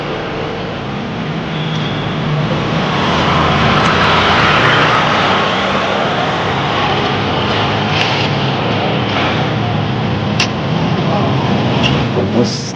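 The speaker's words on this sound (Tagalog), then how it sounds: "May helicopter na" A helicopter passes overhead, making a loud, steady rotor and engine roar that persists throughout and swells slightly in the middle, with faint background noises mixed in.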